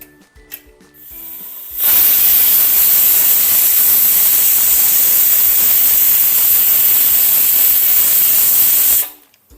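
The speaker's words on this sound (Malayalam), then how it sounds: "ഇനി കുക്കർ മൂടി വെച്ച് 2 വിസിലടിക്കുന്ന വരെ നമുക്ക് വെയിറ്റ് ചെയ്യാം." A stovetop pressure cooker loaded with millet and a little water releases a loud, sustained steam whistle that runs steadily for about seven seconds and then cuts off, with faint kitchen clatter before it.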